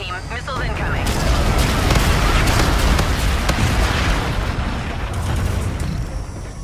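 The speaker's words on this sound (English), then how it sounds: "Danger close, ground team. Missiles incoming." Missile strike explosions in the Call of Duty Infinite Warfare video game form a loud, sustained rumble of booms and crackling blasts that fills the whole stretch, with game voice lines over it.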